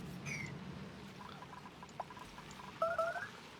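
Polluted water pouring out in the Oxygen Not Included video game, a soft trickling, bubbly liquid sound at low level with small chirpy blips and a brighter gurgle near the end, no talking.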